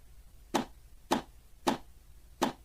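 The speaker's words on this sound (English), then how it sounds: "Pitch down the snare, sounds like this." A snare made from a pitched-down Wii Tennis sound, four crisp, evenly spaced hits with a bright, snappy attack, fairly quiet.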